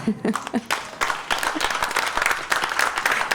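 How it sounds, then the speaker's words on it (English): Indoor conference audience breaking into applause after a speaker at a political leadership event, a dense patter of clapping building and holding steady, with a voice speaking briefly at the start. "This is the only room of people that would clap at that, or clap for that"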